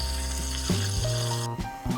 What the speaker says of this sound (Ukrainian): Обсмажуємо стегно з двох сторін.